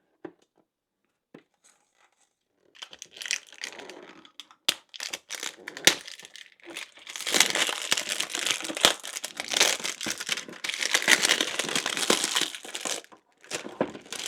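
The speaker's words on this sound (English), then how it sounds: "Let's take off this plastic here" Plastic wrapping peeled off Deadpool & Wolverine popcorn merchandise, beginning with a few isolated ticks and then building into a loud, close, continuous crinkling and crackling that lasts through the rest of the clip.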